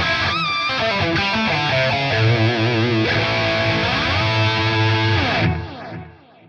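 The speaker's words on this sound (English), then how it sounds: "we're going to add just a little bit of tape delay with the sync turned on" An electric guitar played through a higher-gain ToneX preset with a little tempo-synced tape delay, giving a loud, distorted lead phrase with bends and sustained notes that trail off in delay repeats.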